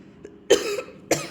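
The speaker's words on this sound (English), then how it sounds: "Gosh, I'm gonna cough to death over here" Two harsh human coughs, the first long with a trailing rasp and the second shorter about half a second later, close and fairly loud in a quiet room with a faint click just before.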